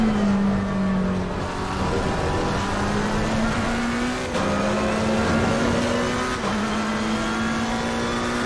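Race car engine in a racing video game at Imola, a steady loud drone with shifting pitch and brief gear-change dips, heard alone without talk.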